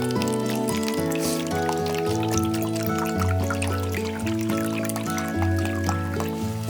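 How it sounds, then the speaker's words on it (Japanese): Persimmon tannin (kakishibu) poured into a container to mix with bengara paint, a continuous trickling liquid sound running under steady background music throughout. "まずは柿渋入れていきます。"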